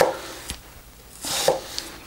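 A large kitchen knife cuts with its tip: a few sharp, separate strokes, close and fairly quiet, with no talking.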